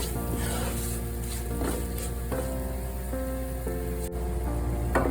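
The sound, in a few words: spices frying in a pan for fish curry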